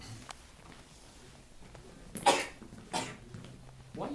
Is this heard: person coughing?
yes